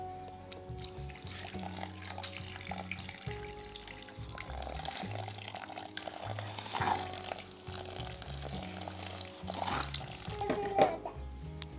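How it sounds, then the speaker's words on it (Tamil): Water pours and splashes into a hand-mixed cement mix while building a water trough for country chickens, a steady trickling wash that runs throughout over low background sounds. "இப்போ வந்து தண்ணி ஊற்றணும்."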